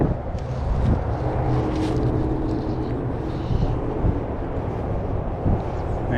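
Strong wind buffets a microphone outdoors on a carp fly-fishing trip, a loud, steady low rumble and roar that lasts the whole time.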